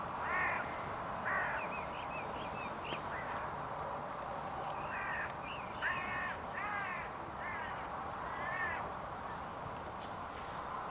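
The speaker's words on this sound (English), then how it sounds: "The rest of the crows weren't terribly happy with it" Hooded crows cawing outdoors, a series of harsh repeated caws in short bursts, some nearer and louder, others more distant, over a steady background hiss.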